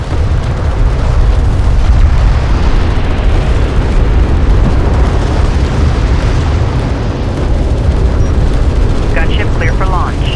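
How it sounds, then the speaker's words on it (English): Cruise missile launch in Homeworld: Deserts of Kharak, a loud, continuous roaring rumble that holds steady throughout, with radio-style voice chatter on top. "Sakala is preparing to launch a cruise missile."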